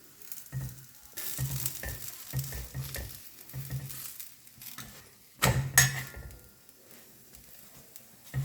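A dal chapati roasts in a pan over a medium flame, with bursts of sizzling and scraping as it is turned and pressed, plus a louder clatter of pan contact near the end.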